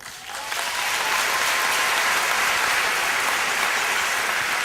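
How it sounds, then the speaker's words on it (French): An audience at a testimony event applauds Mamba Guirassy, the clapping swelling quickly and holding as a loud, dense, steady wash of many hands with no voices over it. "je souhaite que vous applaudissiez aussi, mon ami et jeune frère Mamba Guirassy"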